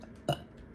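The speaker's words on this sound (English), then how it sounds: "Oh, I feel another burp." A single short burp sounds close and fairly loud, standing out briefly against quiet room background.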